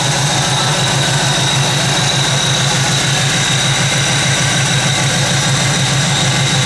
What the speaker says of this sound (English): It's powered by what the previous owner told me was a 1986 tuned port injected Corvette engine.